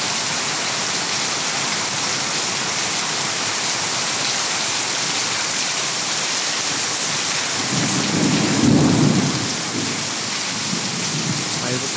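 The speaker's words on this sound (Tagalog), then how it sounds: "May kasama pang malalakas na kulog." Heavy rain pours down steadily and densely throughout a thunderstorm. A deep, loud thunder rumble swells partway through and then fades back under the downpour.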